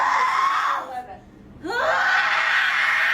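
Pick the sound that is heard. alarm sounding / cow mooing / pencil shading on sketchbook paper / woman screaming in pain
woman screaming in pain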